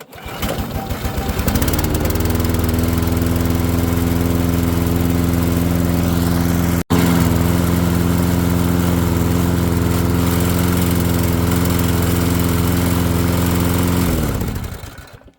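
A push lawn mower engine runs steadily and loud throughout, starting up at the beginning and cutting off near the end, a continuous close-up droning hum with a brief dropout in the middle.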